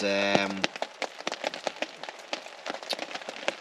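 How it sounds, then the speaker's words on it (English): Rain drums on a camp shelter roof in a dark forest at night, steady scattered drops tapping close overhead, with a voice speaking briefly at the start before the patter carries on alone. "Some people say they love the sound of the rain on the top"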